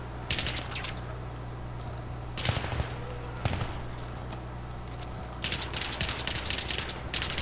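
Bursts of automatic gunfire in a Battlefield 3 firefight, rapid crackling volleys separated by pauses, with a couple of single heavier shots in between, over a steady low engine-like hum.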